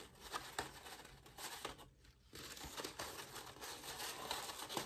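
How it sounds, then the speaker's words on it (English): Yellow paper wrapped tightly around a cylinder for a simple Chinese lantern, making soft, continuous crinkling and rustling up close, with a brief quieter pause partway through. "we're going to roll the yellow paper across the cylinder. So we're going to wrap it around."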